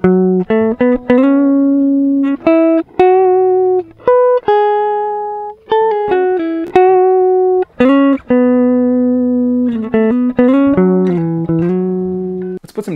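A Relish Trinity electric guitar on its neck pickup, recorded direct into Presonus Studio One, plays clean, ringing single notes and short melodic phrases with brief gaps between them, loud and close.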